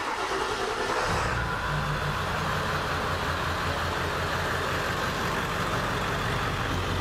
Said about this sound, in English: Okay, so our truck's running.